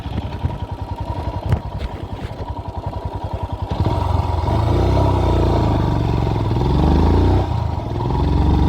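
A Royal Enfield Himalayan single-cylinder motorcycle engine thumps in a fast, even beat, then the sound opens into a louder roar of riding with wind rush.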